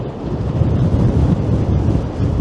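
Strong wind buffeting the microphone near the top of a tower, a continuous loud rumbling roar with gusty swells throughout and no other clear sounds.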